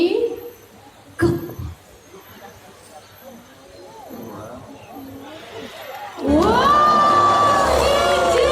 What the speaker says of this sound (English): Can we give Vega another round of applause, everyone?